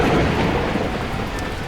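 Thunderstorm from the video game Beacon Pines, a loud sustained rumble of thunder blended with heavy rain noise, steady throughout with no talking.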